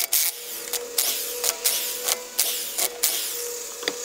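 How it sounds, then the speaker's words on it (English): A car wheel is taken off during suspension work, with loud, close, rhythmic mechanical bursts about every half second, each cut off sharply, and no talk. "So let's pull off this wheel."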